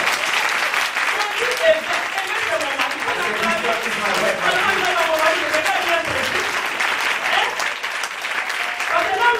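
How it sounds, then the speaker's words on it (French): A church audience applauds loudly and steadily in sustained clapping, while a voice keeps speaking over the crowd. "Quand on parle de mon mari, je veux qu'on l'acclame."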